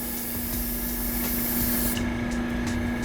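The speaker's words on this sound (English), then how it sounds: "the more you pull back on the airbrush, of course, the more bold your lines and your paint's going to be" Steady airbrush spray hiss from paint being applied to 3D prints, a continuous airy rush held at even loudness throughout with no talk over it.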